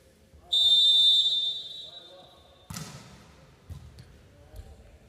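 A referee's whistle blows one sharp, sustained blast at a men's volleyball match between Latvia and Serbia, followed by a ball impact and crowd and court noise.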